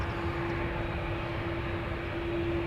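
Steady, continuous roar of an airliner jet at Schiphol airport's Polderbaan runway, loud and constant with a faint tonal hum, no voices.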